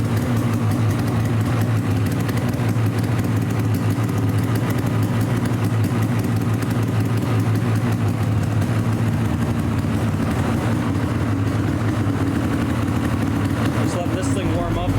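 A snowmobile engine idles steadily while warming up beside the Snake River in Pine City, Minnesota, a constant low rumbling drone running unbroken throughout with a person talking over it.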